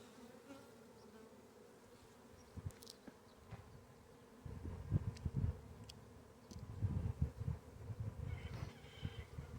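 Honeybees buzz around an open hive being checked in spring, a low droning hum that swells louder and denser in the second half as bees fly close by, with faint outdoor background and no speech.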